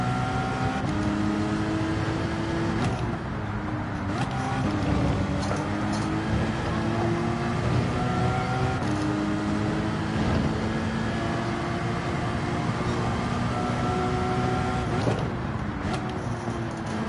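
Race car engine in Gran Turismo 7, a GT4-class car pulling out of the pit lane in an online lobby sprint race, droning steadily and loudly with shifting harmonic whine throughout, no talk over it.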